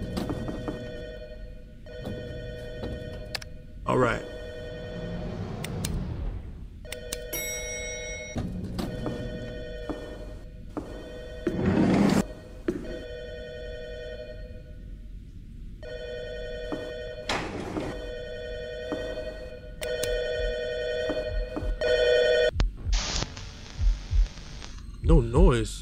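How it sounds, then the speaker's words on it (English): A telephone rings repeatedly in the horror video game Last Shift, steady electronic bursts with pauses between them, continuing under a person talking and occasional footsteps. "The phone is ringing."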